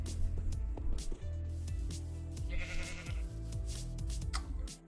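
A Minecraft sheep bleats briefly in the Enigmatica 6 modpack, a faint wavering call amid low game music and small scattered sounds, with no talking.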